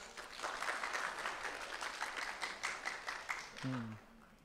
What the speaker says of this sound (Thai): ขอเสียงปรบมือนิดนึงครับ